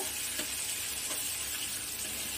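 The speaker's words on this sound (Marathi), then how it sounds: "आता यामध्ये आपण ॲड करू आणि याला छान परतून घ्यायचं आहे आता सॉफ्ट पडेपर्यंत।" Chopped tomatoes sizzle steadily in a hot pan over medium heat as they are sautéed for a spicy tomato thecha, a continuous close frying hiss with faint stirring scrapes and no talking.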